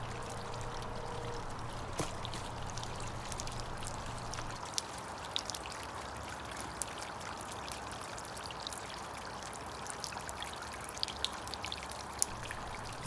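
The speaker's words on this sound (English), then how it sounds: "Now it's time to get the water running through it." Water running through a carved stone fountain, a steady soft trickle and pour with small splashes and drips throughout, a low hum at the start, no talking.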